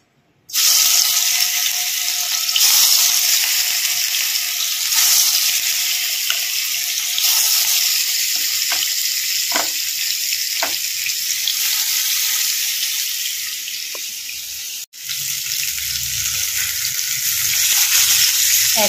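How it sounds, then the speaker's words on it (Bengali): Hilsa fish coated in salt and turmeric sizzles steadily in hot oil, a loud, close, continuous hiss with a brief dip near the end before it resumes. "মাছে আমি নুন হলুদ মাখিয়ে ভেজে নেব"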